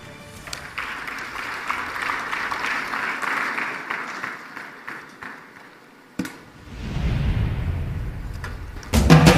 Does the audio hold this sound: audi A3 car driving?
no